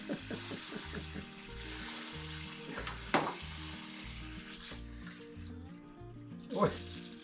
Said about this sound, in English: Oil doesn't normally make that kind of a noise when it's draining, eh?